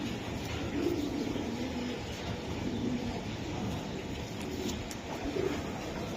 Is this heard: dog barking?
no